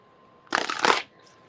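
A deck of tarot cards is shuffled in one quick, close burst of riffling that lasts about half a second, then the room falls quiet.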